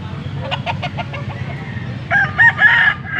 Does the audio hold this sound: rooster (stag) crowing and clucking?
yes